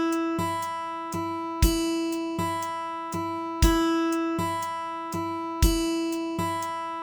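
Clean, evenly struck tones repeat in a steady pattern at 120 BPM: two dotted quarter notes and a quarter note per bar, with accented downbeats marked by a low thump, moderately quiet and alone.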